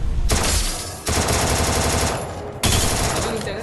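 Loud automatic gunfire in the mobile video game Free Fire, two dense sustained bursts broken by short gaps.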